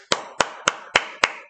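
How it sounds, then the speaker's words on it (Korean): Five slow, evenly spaced hand claps ring out close and crisp, each a sharp isolated smack with a short decay, in a small room at the end of a one-on-one lesson. "박수, 박수"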